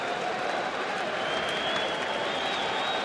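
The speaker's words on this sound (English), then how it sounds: "the crowd's letting them know about it right now" A baseball stadium crowd at an ALDS playoff game roars and claps after a ground-rule double, a sustained, dense wall of cheering and applause with a faint voice under it.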